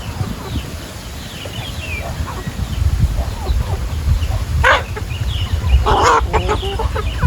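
Chickens clucking on a farm, several short calls and bursts rising over steady low background noise, mostly toward the end.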